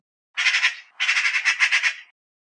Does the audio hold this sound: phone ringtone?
no